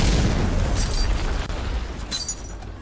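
A loud, rumbling dynamite explosion in the video game Santa's Rampage, with crackling debris and bursts, sustained noisy roar over a few seconds, game-style sound effects without speech.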